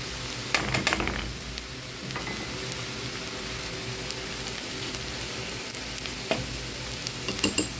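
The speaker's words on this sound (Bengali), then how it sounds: "এখন আমি ভালো করে পেঁয়াজটা ভেজে নিব, একদম বাদামি করে ভেজে নিব।" Onions frying in a pan until brown, a steady low crackling sizzle throughout, with clusters of sharp spoon clicks and scrapes near the start and end and no talking.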